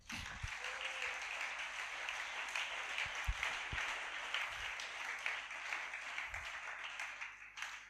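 A church congregation applauds after a sermon, steady broadband clapping filling the whole stretch at a moderate distance, with a few low thumps scattered through and no talking.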